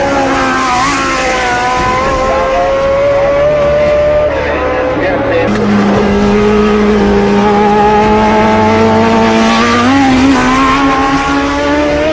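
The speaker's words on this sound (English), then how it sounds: "Bei der Durchfahrt hier sehen wir Startnummer 19, Reis van Lenne." Loud Shadow Formula 1 racing car engines whine at high revs, pitch shifting as cars pass at speed at Interlagos, one after another, close and continuous.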